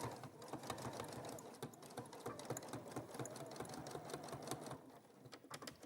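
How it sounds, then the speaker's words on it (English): A domestic sewing machine runs a stay stitch along the bottom edge of fabric with a steady, fast mechanical whirring and clatter. Close, quiet, and continuous for several seconds, with no voices. "So what I'm going to do is do a stay stitch at the bottom."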